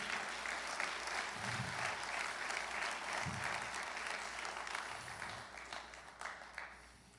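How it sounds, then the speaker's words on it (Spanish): A church congregation gives a strong round of applause, steady clapping at moderate distance with a few deeper thumps, tapering toward the end, no one speaking over it. "Dale un aplauso fuerte."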